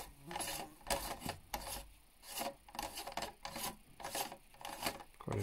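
Threaded metal tube sections of an Altairastro Starwave 102 Ascent ED telescope being unscrewed by hand, a close, faint, steady rasping scrape in repeated strokes.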